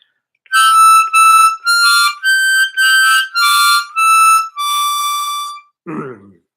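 A harmonica plays a short practised melody phrase of about eight distinct blown notes in a steady rhythm, clear and close, followed by a brief lower tone at the end.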